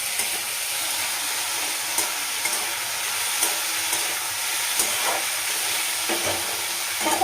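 Papad frying in hot oil in a home kitchen, a steady broadband sizzle and crackle running throughout with small pops scattered across it, close and moderately loud with no talk.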